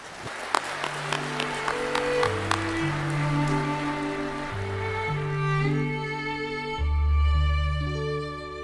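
Large audience applause welcoming President Xi Jinping at the opening of the 2022 Boao Forum for Asia in Hainan, a steady broad wash of clapping under stately orchestral music, with no talking.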